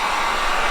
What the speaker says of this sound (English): Oh, and this heat gun's pulling.